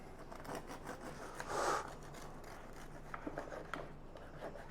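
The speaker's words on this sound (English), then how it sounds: "And then we cut the brack from earlier." A knife cutting a slice from a barm brack, a homemade Irish fruit loaf: one soft, brief rasping stroke, quiet and close, followed by faint small taps and scrapes.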